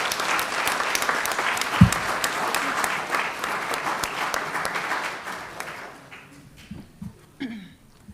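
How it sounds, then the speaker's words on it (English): An audience at a school board meeting gives a round of clapping that holds steady for about five seconds, then thins out into a few scattered claps and quiet room noise. "Let's give them another round of applause."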